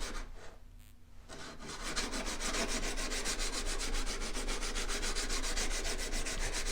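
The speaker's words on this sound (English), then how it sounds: "we're gonna start on the sides and just bring that edge a little bit more refined" A Harbor Freight chisel's side is rubbed back and forth on an abrasive surface, a close, rhythmic scraping that starts after a brief pause and carries on steadily.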